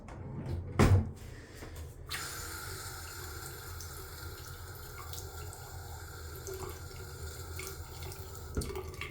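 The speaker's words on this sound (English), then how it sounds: "I might actually wash this knife off in the sink for a second." A kitchen sink tap runs steadily as a knife is rinsed under it, with a clunk of a cupboard or drawer near the start and a small knock near the end, close and alone.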